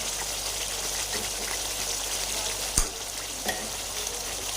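Gravy for cauliflower kofta frying in a pan, a steady close hiss of sizzling oil with a couple of faint knocks of a spoon, no talking.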